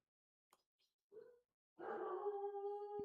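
A dog gives a sustained, wavering howl close by, rising after a few faint short sounds and holding steady to the end.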